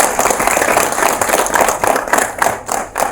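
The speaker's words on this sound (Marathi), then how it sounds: "एकदा जोरदार टाळ्या केल्यासाठी" An audience at a Marathi movie event gives loud, sustained applause, a dense wash of many hands clapping close and steady throughout.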